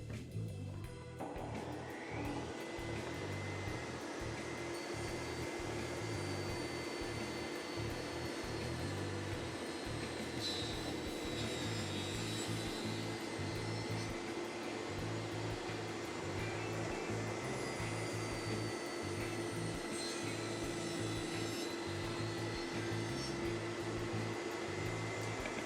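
A shop vac draws air through a cyclone dust separator fed from a saw, giving a steady loud whine and rushing airflow that runs continuously without talk.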